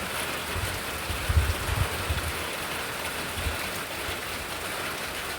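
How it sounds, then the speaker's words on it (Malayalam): Heavy rain pours down in an outdoor yard in a constant rushing wash, with a few low thuds of water hitting the ground near the start. "ഏ മുറ്റത്ത് വെള്ളം വീഴുന്നുണ്ട്"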